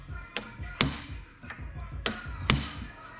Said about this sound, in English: Chisel it out, or knock that retainer out with a chisel.